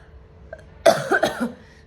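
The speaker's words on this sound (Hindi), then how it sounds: "बस खांसी कब ठीक होगी पता नहीं" A few harsh coughs close to the mic, in quick bursts after a brief quiet moment, with nobody talking.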